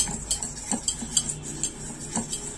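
A spoon scrapes and clinks around a bowl of besan boondi batter, giving a steady run of close, light metallic taps and stirring swishes with no one talking.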